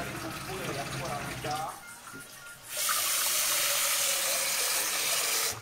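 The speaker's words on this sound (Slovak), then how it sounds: "A ešte tam nabr tu studenej vody a ešte raz to prelej." Cold water runs into a kitchen sink for rinsing while beans are prepared for soup, a rushing broadband stream that surges to full force partway through, with voices talking over the earlier part.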